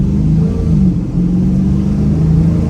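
A 2023 Dodge Challenger Scat Pack 1320 Edition engine pulls hard under acceleration, a loud, steady low rumble heard from inside the car with the window down, continuous for the whole stretch with no talking.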